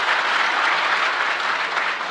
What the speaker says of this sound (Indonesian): Tepuk tangan buat jemaat di tempat ini.